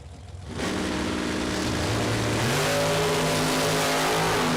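A drag-racing dragster at a drag race start revs its engine loud and close, the roar rising in pitch and holding at a high, steady, sustained level.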